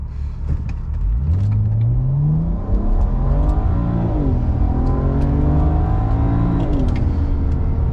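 A BMW E90 335i with a six-speed automatic accelerates flat out in sport mode, its engine roaring loudly up through the revs with clear gear changes dropping the pitch before it climbs again, steady and close throughout.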